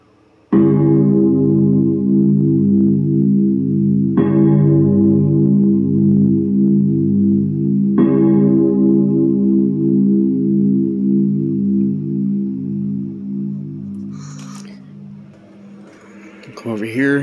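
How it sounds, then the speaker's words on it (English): A Korg Kross synthesizer plays a double coil gong grandfather clock chime, striking three times about four seconds apart. Each deep, bright strike rings on and overlaps the next before slowly fading, and a voice briefly speaks at the end. "the korg kross playing a double coil gong grandfather clock"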